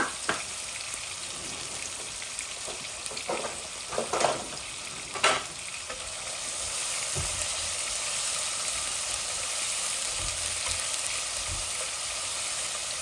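Onions frying in oil in a large pot, a steady crackling sizzle throughout, with several sharp scraping stirs in the first half before the frying continues undisturbed, close by and with no talking.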